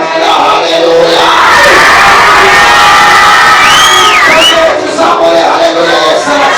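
Loud church congregation cheering and shouting together, a dense sustained roar of voices with whoops rising above it, filling the whole stretch.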